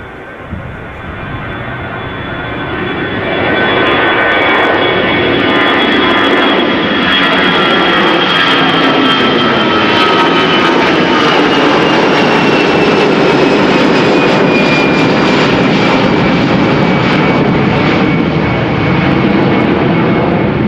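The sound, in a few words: easyJet Airbus A320 jet airliner at Schiphol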